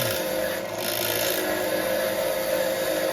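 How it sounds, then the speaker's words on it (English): Wire wheel on a bench grinder scrubbing a small-block Chevy 350 cylinder head bolt, a continuous harsh abrasive rasp at moderate level with a steady motor whine underneath. "I just cleaned my head bolts with this wire wheel on a bench grinder."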